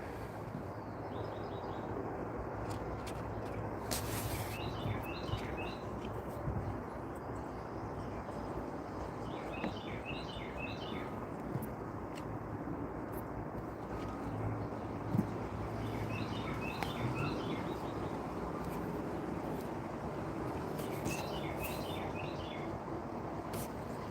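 Pet birds call from a home room, short bright chirping phrases recurring every few seconds over a steady background hum, no one speaking.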